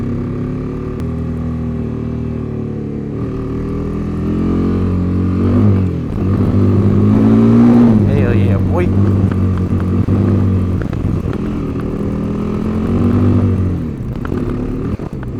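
Kawasaki KLX250 dirt bike engine pulls off the road onto dirt, a loud close-up throb that rises and falls with throttle blips, revving up around the middle and settling back, under a rider's voice.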